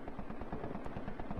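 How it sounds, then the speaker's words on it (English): Rapid bursts of gunfire in a Minecraft horror map rattle in a quick, regular rhythm, moderately loud, with no talking. "I'm hearing gunfire."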